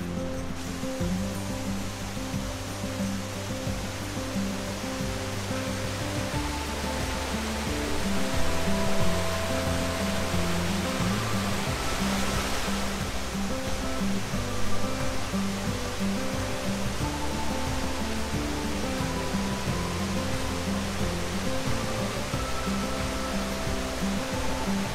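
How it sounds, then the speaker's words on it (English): Steady rushing water pours continuously nearby, a broad even hiss of a small roadside waterfall opposite a castle in the mountains, with a faint low rumble beneath and no voices. "Opposite the castle on the other side of the road is a small picturesque waterfall."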